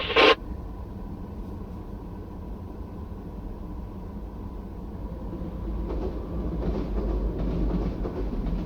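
A train rumbles steadily along the rails at a level crossing, its noise building toward the end as clacking wheel sounds grow louder and closer.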